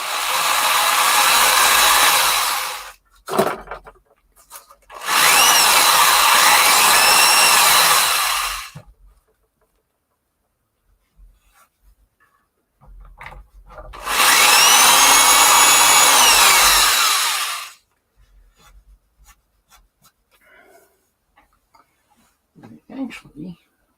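Supercapacitor-powered cordless drill whirring at a steady high pitch in two bursts of several seconds each, close and loud, with brief talk in the gaps.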